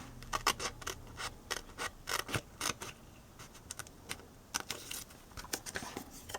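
Scissors trim paper while a small chapstick box is being made, giving a quick run of crisp snips and scratchy cuts, close and quiet, in irregular clusters with a brief lull midway.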